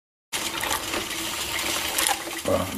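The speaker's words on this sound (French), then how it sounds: "Le café qui est en train de s'écouler gentiment." Coffee trickling from an Edoolffe 259T programmable drip coffee maker into its pot, a steady close liquid pouring and gurgling that runs continuously with a slight splash change near the end.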